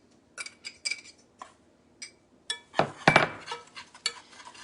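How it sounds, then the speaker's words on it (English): Three egg yolks go into a bowl while making a keto chocolate pie: scattered light clinks and taps of a utensil against the bowl, with a louder, denser clatter near the middle, close and clear in a quiet kitchen. "So we're going to add 3 egg yolks in here."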